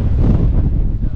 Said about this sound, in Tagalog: Pag umihip yung hangin, ganyan siya oh. May sound na.